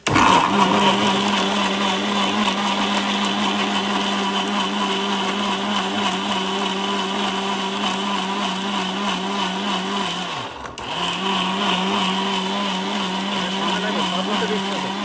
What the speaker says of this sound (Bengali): আমরা এখন ব্লেন্ডারে কাজটা করে দেখো।